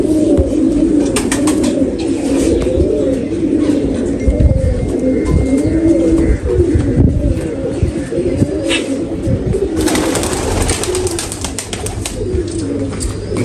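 Pigeons bred for flying in Lahore coo steadily and close by in a layered, continuous murmur, with soft wing flutters and chirps now and then and no talking.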